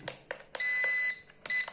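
Warning beeps in the cockpit of an EC 145 civil security helicopter, sounding as a series of short tonal beeps with a longer sustained tone in the middle, close and clear.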